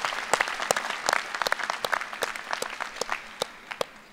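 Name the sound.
new students applauding at convocation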